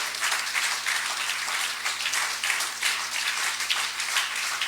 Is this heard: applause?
yes